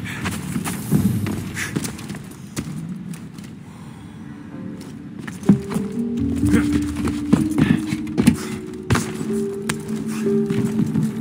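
Horse from Assassin's Creed Odyssey snorting and clopping its hooves close by, irregular steps and shuffles with a creaking, mechanical game ambience behind, while a faint voice speaks briefly.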